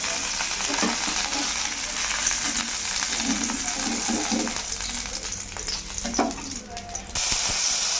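Marinated chicken pieces frying in a little oil, a close, steady crackling sizzle with occasional stirring clinks and sputters throughout.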